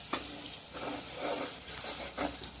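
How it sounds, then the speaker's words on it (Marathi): Chilli powder, salt, turmeric and spices fry in oil with capsicum, giving a soft, steady sizzle with light stirring scrapes throughout. "तर त्याला छान होऊ देते तेलामध्ये."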